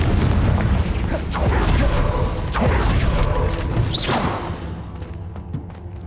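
A Confringo spell goes off in Hogwarts Legacy with deep, rumbling booms and crackling blasts, layered with whooshing game effects, loud and continuous for several seconds before trailing off.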